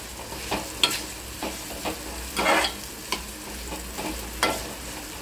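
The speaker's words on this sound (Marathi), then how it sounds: "टोमॅटो बरोबर आपण गरम करत आहोत पूर्ण।" Tomatoes heating in a pan for chana masala, a soft continuous sizzle punctuated by regular stirring scrapes.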